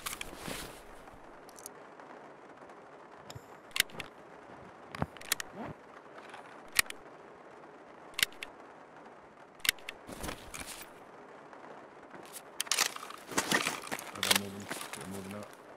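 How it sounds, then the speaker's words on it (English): Rifle magazine being repacked in Escape from Tarkov, a run of sharp metallic clicks as rounds are pressed in one by one, scattered irregularly with a quick rattling burst near the end, under a quiet background. "Oh, I gotta repack a mag."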